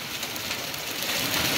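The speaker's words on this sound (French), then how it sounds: "Orage de grêle les gars, regardez-moi ça." Steady rain and small hail pattering on a surface, a dense, continuous hiss with fine ticking, fairly close and constant throughout.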